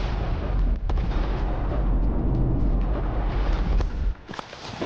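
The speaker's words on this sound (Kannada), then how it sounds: "ಕೃಷಿ ಹೊಂಡದಲ್ಲಿ ಸೋಡಿಯಂ ಮೆಟಲ್ ಬಳಸಿ ಬ್ಲಾಸ್ಟ್ ಮಾಡುವ ವಿಡಿಯೋ ಇದಾಗಿತ್ತು" A sodium metal blast in a farm pond, about half a kilo of sodium dropped into the water, gives a loud, sustained roaring rumble with sharp cracks scattered through it, then drops off abruptly near the end, heard alone without talk.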